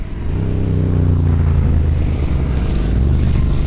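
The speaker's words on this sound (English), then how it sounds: "Comes a bunch of motorcycles." A group of motorcycles passes close by on a mountain road in the Angeles National Forest, engines rising to a loud, rumbling roar that holds steady as they go past.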